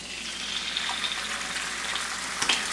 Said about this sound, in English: See how much that egg bubbled up so fast like that?